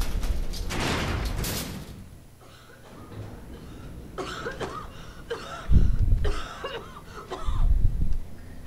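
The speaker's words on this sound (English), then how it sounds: "Yeah, she's coughing right now." In a Resident Evil 6 cutscene, a woman coughs a few heavy, rough times, close up, between quieter mechanical clanks and shuffling.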